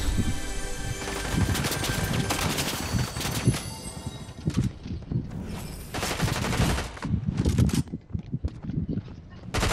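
Rapid bursts of automatic gunfire from the game Fortnite, played on a Poco F6 phone, dense and loud at first, then breaking into separate volleys with short pauses between them.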